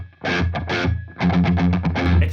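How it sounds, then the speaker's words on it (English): Heavily distorted electric guitar playing a riff, loud and close, with two bursts of sustained chords separated by a brief pause. "there's a lot of distortion in this one"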